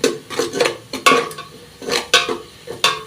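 A spoon scrapes and clinks against a pan while coriander and mint are stirred into egg biryani gravy, a run of irregular close metallic knocks and scrapes.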